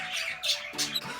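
Pet budgies squawk and chirp loudly up close in two or three harsh, shrill bursts over a second, with no other sound.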